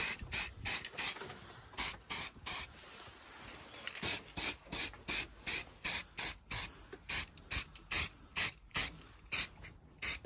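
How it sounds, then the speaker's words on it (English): Rapid bursts from a paint spray can coating the header tank of a Ford Sapphire RS Cosworth, roughly twenty short hissing sprays in a steady rhythm, close and fairly loud with brief gaps between each burst. "we'll go and give the header tank another coat of paint."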